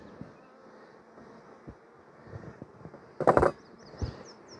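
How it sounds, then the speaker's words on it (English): Dense, steady hum of many honeybees inside an opened beehive during an inspection, close and continuous, with scattered knocks and handling clatter from hive frames and no talk. "There's so many bees in here."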